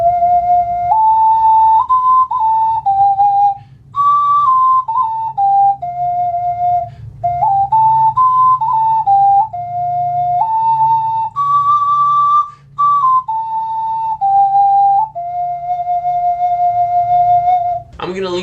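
Six-hole ocarina playing an improvised major pentatonic melody, a clear, breathy, whistle-like line of stepping notes with a few brief pauses, ending on a long held tone over a faint low background hum.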